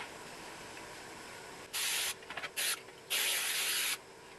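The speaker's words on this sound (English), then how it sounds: "So I'm gonna spray that with my cooking spray." Cooking spray hisses from a can onto a baking pan in three short bursts, the last one longest, against a quiet room background.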